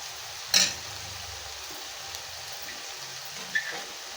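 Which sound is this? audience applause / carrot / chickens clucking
carrot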